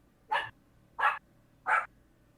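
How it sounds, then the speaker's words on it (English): A dog barks three times in an evenly spaced series, each bark short and sharp, fairly close and clear over a quiet background. "Dog barks."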